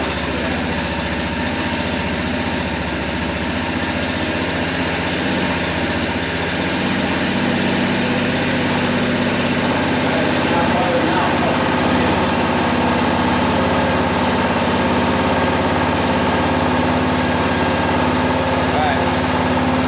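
A rebuilt Kawasaki Prairie 400 ATV engine runs steadily at a low idle throughout, a continuous near rumble with a slight rise in intensity partway, while a person talks over it.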